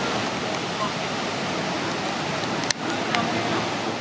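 Waterfall near Whistler, British Columbia, roaring steadily as a dense, continuous rush of falling water heard up close, with a brief knock partway through.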